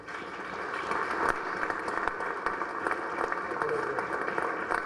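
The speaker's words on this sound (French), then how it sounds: "pour lequel je demande un applaudissement" A hall audience at the Fifth Summit of ACS Heads of State and Government in Haiti gives sustained applause for the secretary general and his team, a dense, even wash of clapping lasting throughout.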